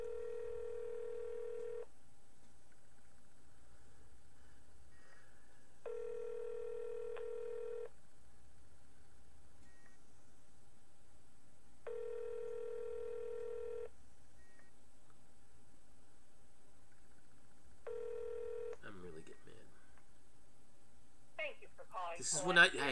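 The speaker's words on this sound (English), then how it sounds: "All right, the phone's ringing now." Phone ringback on an outgoing call to an animal hospital: four evenly spaced ring bursts of about two seconds each, separated by long silent gaps, before a voice and chime answer at the end.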